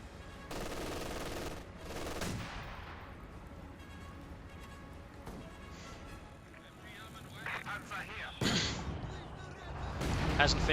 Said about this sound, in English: Then field gun there being engaged by the MD-42.